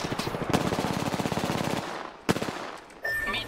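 Rapid automatic gunfire rattles in the video game Apex Legends, a sustained close burst followed by a sharp single shot and a trailing pause, then another louder effect sound near the end.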